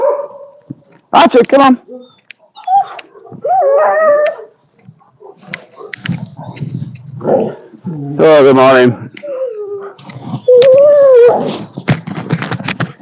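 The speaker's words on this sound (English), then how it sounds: "Going for a walk with the dogs." Several dogs on a morning walk bark, whimper and howl in short, uneven bursts, some loud and close, while a person talks to them between the calls.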